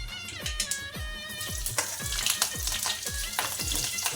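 Chopped ripe chillies frying in a pan while cooking a makhana sabzi, a close steady sizzle with repeated stirring scrapes and clatters at a quick, uneven pace.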